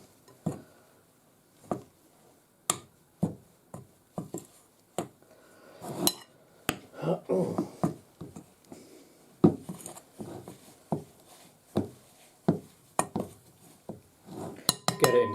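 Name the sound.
mixing pastry dough for roast beef pasties in a bowl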